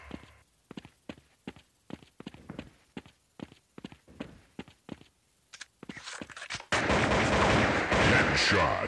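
Gunshots ring out in the Critical Strike CS counter-terrorist shooter game, about a dozen sharp, evenly spaced single shots, then a denser burst of fire and a loud continuous roar of gunfire at the end.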